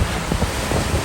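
Ocean surf washing onto the Yacht Club beach at Ocean Cay, a steady wash of waves with wind buffeting the microphone, fairly loud and continuous with no voices.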